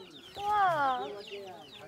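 A chick gives a single rising and falling chirping call, close and clear over quiet background.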